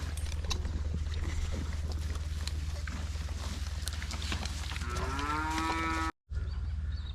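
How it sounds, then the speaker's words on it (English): Cattle lowing on a farm in the Murchison region, with a couple of drawn-out moos near the end rising over a steady low rumble and busy outdoor background noise. "these are the cows that are apparently heading off to the eastern states"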